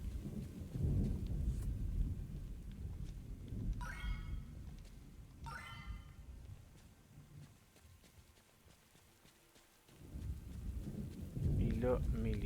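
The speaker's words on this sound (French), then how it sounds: "Oh non, c'est gros orage ça." Heavy rain pours steadily through a thunderstorm in the video game One Lonely Outpost, with two sharp thunder cracks rolling over the downpour and the rain swelling loud again near the end.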